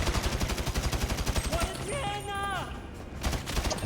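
Rapid automatic gunfire in the GTA video game, a dense close burst of shots that gives way to game effects and a rising electronic tone, then more shots at the end.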